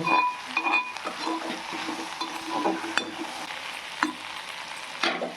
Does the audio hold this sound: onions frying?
yes